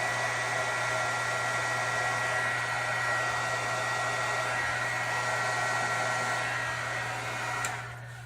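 Heat gun drying liquid tape on a washer while restoring a 1947 Philco 47-1230 tube radio phonograph record changer: a steady, loud whooshing blower roar with a constant hum, running unbroken for several seconds before winding down at the end.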